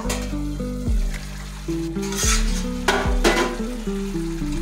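Chicken sautéed in a pan in its own released water for Bengali chicken kosha, a continuous sizzle with occasional utensil clanks, heard under background music.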